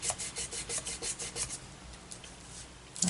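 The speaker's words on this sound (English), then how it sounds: "Rub that extra tape off there that I have." Quick back-and-forth rubbing strokes as excess two-way tape is rubbed off a 3D rocking horse craft card, a steady run of soft rasping swipes that fades in the last second.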